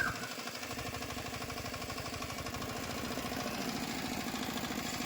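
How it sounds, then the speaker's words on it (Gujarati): A 5 hp diesel power tiller engine runs steadily at idle with a fast, even chugging throb and mechanical rattle, close by, with no speech. "આમાં એન્જિનની એચપી सारी होवाथी एकदम सरलताथी अने लोड फ्री चाले छे"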